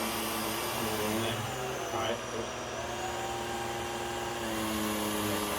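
A UWANT V500 self-emptying vacuum cleaner runs on its low mode over carpet, giving a steady, fairly quiet whirring hum that holds even throughout.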